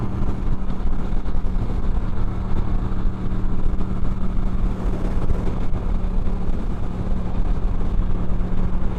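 A Moto Guzzi V7 III Rough motorcycle riding along a road off a highway exit, its engine giving a loud, steady low rumble with wind noise throughout and no talk.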